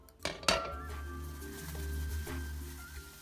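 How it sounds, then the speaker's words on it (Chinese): A metal lid set onto a cooking pot of braising five-spice beef after the heat is off, two sharp clanks close together and then a ringing metallic hum that slowly fades. "关火，并同时盖上锅盖"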